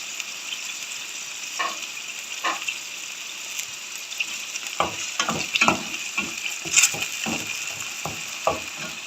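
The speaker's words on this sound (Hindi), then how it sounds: "साथ ही मैं ये बाकी तमाम मसाला जात भी शामिल कर रही हूँ और इनको 2 मिनट फ्राई कर लूँगी" Whole cumin, crushed chili and ground spices frying in hot oil in a pan for bhindi masala, a steady broadband sizzle with a spoon stirring and scraping in short bursts, alone without talk.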